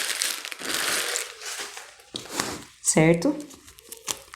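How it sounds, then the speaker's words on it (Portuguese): A chilled honey-spice cake being unwrapped from its pan and plastic bags brings close crinkling and crumpling of plastic, with someone speaking briefly near the end. "O que a gente vai fazer é desembalar o bolo"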